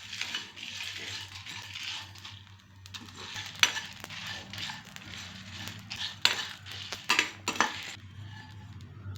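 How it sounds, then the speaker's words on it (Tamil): Pepper, cumin, urad dal and dried chillies dry-roasting in a pan for a vegetarian curry, giving a steady dry rattle and scrape with a few sharp metallic clinks from stirring. No talk is heard. "இதிலையே மிளகாய் வத்தலையும் சேர்த்து வறுத்துக்கிறேன்."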